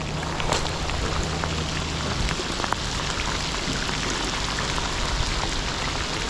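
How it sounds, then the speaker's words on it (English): Heavy spring rain pours steadily during a fishing outing before a storm, a dense, continuous hiss of drops hitting water and surfaces, with a low hum fading out early on. "So it's raining really, really bad."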